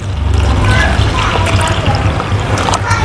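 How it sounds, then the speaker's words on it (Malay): Plain water trickles and splashes as it is poured into a seedling tray, a soft steady pour heard close up over a low background rumble. "Ini cuma air biasa, saya masukkan air dalam ni."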